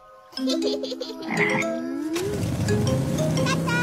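A cartoon frog croaks in a Malaysian animated village scene, with bouncing, tonal croaks over a busy background of music and ambient sound, loud and close throughout.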